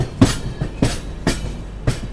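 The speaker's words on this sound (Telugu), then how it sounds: "సో మన ట్రైన్ వచ్చేసి నాగ్పూర్ నుంచి అయితే బయలుదేరిపోయింది" The Tamil Nadu Express, a New Delhi to Chennai train, is running just after leaving Nagpur. Four evenly spaced rhythmic clacks of wheels over rail joints sound close and steady over a constant low rumble, with no voices.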